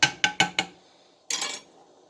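A utensil knocks against a pot of chunky soup while potatoes are stirred: four quick metallic clinks in a row, then a short scraping swirl, close and clear with no talk.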